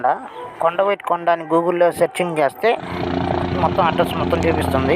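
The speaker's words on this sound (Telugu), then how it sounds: "ఈ హెలికాప్టర్ సౌండ్ వచ్చింది," A tourist helicopter at the Kondaveedu fest drones overhead as a steady rotor rumble that rises and fills the second half, following someone talking.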